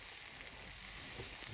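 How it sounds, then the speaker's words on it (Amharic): Berbere and dried injera pieces sizzle and crackle faintly in a dry pan with no water added, a soft continuous frying hiss for Ethiopian dirkosh firfir. "ከዛ እንደዚህ ምንም ውሃ ሳናደርግበት እናበስለዋለን በወፍራሙ።"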